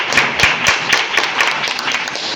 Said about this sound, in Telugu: ఫస్ట్ ఆఫ్ ఆల్ మన గురించి ఒకసారి గట్టిగా క్లాప్స్